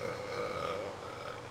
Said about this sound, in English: I can feel myself about to burp